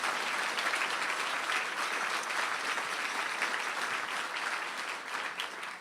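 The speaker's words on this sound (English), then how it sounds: "Let's give him a great round of applause for what he has done." Audience at a political conference breaks into sustained, steady applause, a dense wash of many hands clapping at a loud, even level throughout with no voices.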